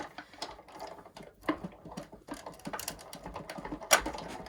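A Sizzix die-cutting machine pressing an embossing folder and cutting plates through its rollers gives a quiet, uneven run of mechanical clicks, ratcheting and creaks at close range.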